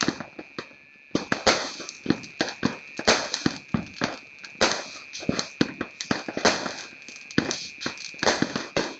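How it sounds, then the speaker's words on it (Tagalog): Firecrackers going off in a rapid irregular string of sharp, loud cracks and pops, some close and some farther away, with a steady high whine running underneath. "Putok na naman sila."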